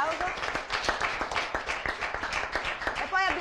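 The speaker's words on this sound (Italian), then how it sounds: "un applauso" Applause and clapping from an audience at a Triveneto cyclocross trophy race ceremony in Vittorio Veneto, a steady mass of claps lasting several seconds, with talk mixed in.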